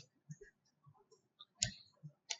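Faint, close clicks from pressing a button on a control panel, several small ticks scattered across a quiet background with a slightly sharper click pair near the middle.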